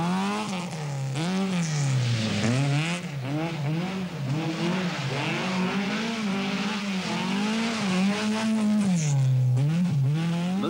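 An angry, full-blooded rally car runs flat out over narrow country roads on the Circuit of Ireland, its engine note climbing and dropping through gear changes in a continuous loud, close passage with no talk.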